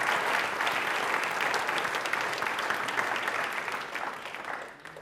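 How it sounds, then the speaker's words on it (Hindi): Steady applause from a studio audience during an Independence Day special quiz show, fairly quiet and even, with a dense wash of clapping that fades out over the last second. "तालियां जोरदार होनी चाहिए इनके लिए।"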